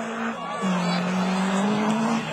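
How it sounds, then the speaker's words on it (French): A specially built Honda rallycross race car roars downhill during a French Division 4 championship round, a rising engine whine close by with a brief tyre squeal, while a commentator's voice runs underneath. "Dans la descente Bertrand Girardot, avec cette Honda très spéciale."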